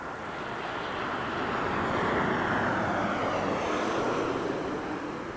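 A Southwest Boeing 737 MAX 8 airliner rolls on the runway at Las Vegas Harry Reid International Airport, its jet engines a broad, steady roar that swells slightly and holds, heard at a distance without talk.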